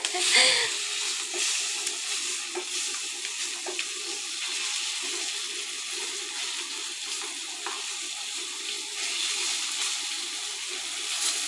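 Fish frying in hot oil with a steady crackling sizzle and spitting splatters throughout, fairly close and continuous, with no clear talk over it.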